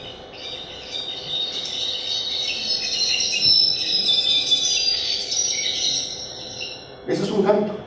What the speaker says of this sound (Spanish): vamos a oír un canto de un jilguero